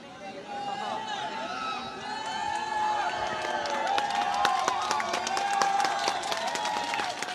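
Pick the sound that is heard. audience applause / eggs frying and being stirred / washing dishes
audience applause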